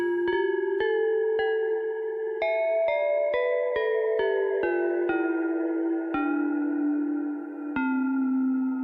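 Jamstik MIDI guitar triggers a software synth plugin in a DAW, producing clean, bell-like sustained notes plucked one after another in a slow descending line, layering into ringing chords, close and alone.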